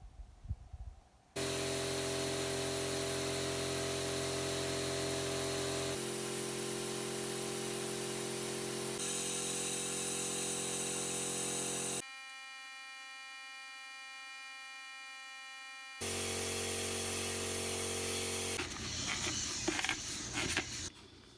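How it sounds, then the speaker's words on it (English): A loud, steady hissing, droning suction noise from a vacuum hose pumping residual oil out of an AMF Shovelhead engine case runs continuously, shifting in pitch and cutting out briefly near the middle before resuming. "I'm going to stick my vacuum hose down into the case and pump out any residual oil."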